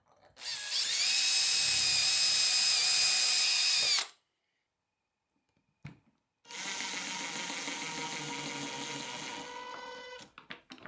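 Drill boring holes in wood for T-nut tangs while making wooden clamps, two bursts of high whining drilling, about four seconds each, separated by a quiet gap with a faint click, heard alone and close.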